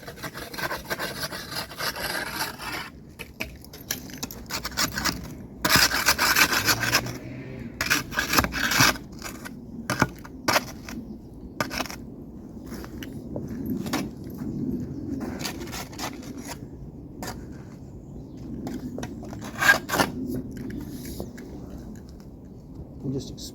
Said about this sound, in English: with my hoe, I'm just scraping along.